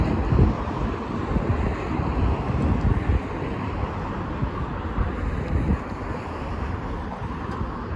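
Gusty wind buffets the microphone outdoors by the V&A Dundee on the Dundee waterfront, a steady broadband rush with loud low-end rumble that holds for the whole stretch.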